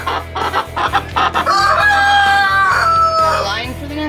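Chickens in a backyard roost cluck loudly and continuously, several hens overlapping with a rising squawk toward the end, close by over a low steady hum.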